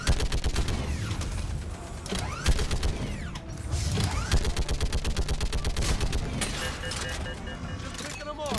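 Heavy weapons fire rapidly in Mass Effect 3, dense bursts of gunshots with mechanical clanks and ratcheting, loud and continuous under a game soundtrack with voices over it.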